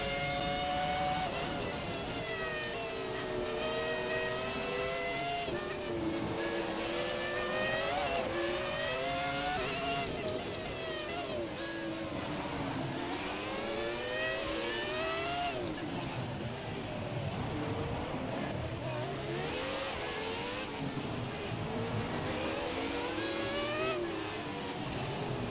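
Formula 1 cars racing around Monaco in F1 2017, with an RB6 among them: high-pitched engines rev up and down continuously as they brake and pull out of corners, a loud unbroken whine with sweeping pitch changes throughout.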